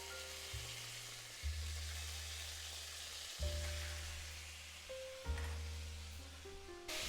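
Extra-lean stew beef drops into a hot pan just cleared of bacon, bursting into loud sizzling that swells with each added batch and settles into a steady crackle over a low kitchen hum.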